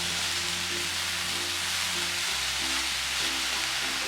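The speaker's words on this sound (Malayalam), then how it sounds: "എടുത്തു വെച്ചിരിക്കുന്ന ക്യാബേജും ക്യാരറ്റും കൂടി ഒരുമിച്ചിട്ട് ഒന്ന് വഴറ്റി കൊടുക്കാം." Cabbage and carrot sauté in a pan on a medium flame for a vegetable samosa filling, giving a steady, even sizzle and hiss with a low hum beneath and no talking.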